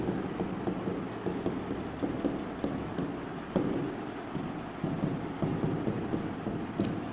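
Pen strokes on paper while a vector dot product is written out by hand during a physics lesson, steady soft scratching and tapping in short bursts, close and quiet with no talk.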